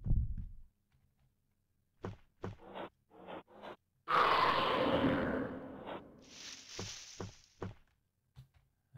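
Low, soft thumping pulses at the start give way to sharp knocks, a loud rushing burst and a high whine, suggesting a heartbeat amid effects in the video game Alone in the Dark: A New Nightmare.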